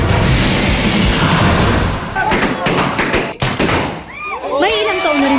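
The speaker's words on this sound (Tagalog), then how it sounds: "pumatok na paputok ang mga kung tawagi boga, gawa sa mga PVC pipe, konting lighter fluid" A boga, an improvised PVC-pipe cannon firecracker fuelled with lighter fluid, fires a rapid series of sharp, loud booming bursts outdoors, and then people talk.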